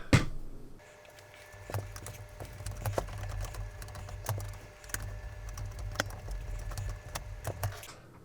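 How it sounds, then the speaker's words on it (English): Screws being driven into the bottom of a drive fitted inside a Commodore Amiga, heard as close, scattered clicks and taps over a low steady hum, with no talking. "So let's see about getting a couple of screws in the bottom."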